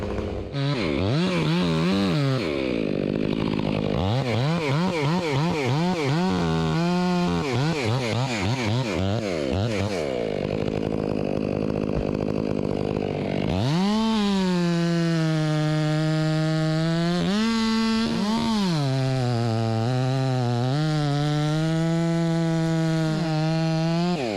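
A chainsaw with a freshly sharpened chain cuts into a large codominant fir, its engine loud and close, revving and bogging in waves through the cut, then settling into a steady high whine.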